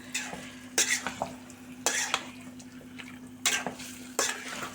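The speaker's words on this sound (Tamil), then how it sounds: "நல்லா கலக்கி விட்டுட்டே இருங்க, இல்லைன்னா அடி பிடிச்சிடுது" Chicken gravy being stirred in a pan, with rhythmic spoon scrapes and clinks against the metal over a continuous sizzle, close and clear, with no talking.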